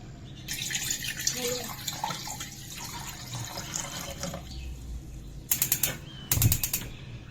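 Water runs from a tap into a bowl in a home kitchen while fish rezala is being prepared, a steady splashing stream with a few louder bursts near the end.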